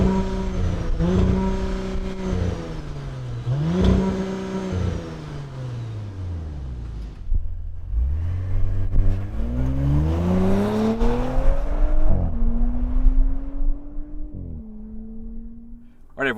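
A 2020 Audi S4 engine revs loudly up close through its dual exhaust, pitch climbing and falling over several throttle blips before a longer sustained rise.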